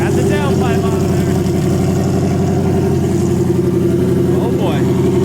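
A turbocharged 2018 Ford Mustang GT with an aftermarket downpipe drones loudly and steadily at close range on a test drive, its low engine note continuous throughout.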